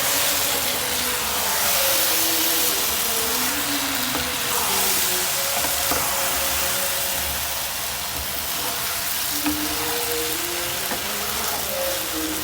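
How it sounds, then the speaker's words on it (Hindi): Okra frying in oil with spices in a pan, a steady close sizzle and crackle that holds evenly throughout, with a faint low hum beneath and no talking. "दो मिनट और भूनूंगी इसको मैं"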